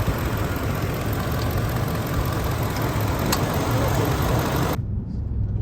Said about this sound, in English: Brand new engine. Sounds good.